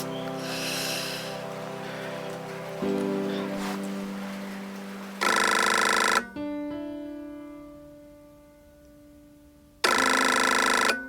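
A telephone rings in a home scene with repeated electronic bursts of tone separated by pauses, loud and close, mixed with sustained musical tones and a brief breath.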